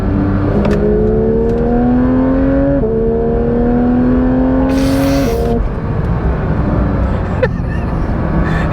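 Porsche 911 GT3 992.1 accelerating in track mode, heard from inside the car, the engine note climbing loudly through repeated rising sweeps with brief shift breaks, loud and close, no talk.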